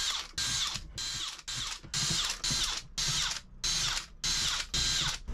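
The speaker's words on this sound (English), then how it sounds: "I'll run a single tiny little number four screw in here" A small number four mild steel screw driven into a wooden jig assembly with a ratcheting driver, giving nine close, loud bursts of rapid clicking, each separated by a brief pause as the handle is reset.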